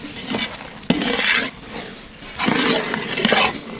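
A spoon scrapes and stirs thick masala with ground curry powder for chicken gravy in a sizzling pan, with clinks against the metal and bursts of frying hiss, close up.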